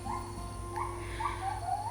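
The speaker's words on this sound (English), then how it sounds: "They are gibbons calling near us." Gibbons calling in the Borneo forest of Sabah, Malaysia: a series of faint, distant rising whoops repeating every half second or so over a steady background hum.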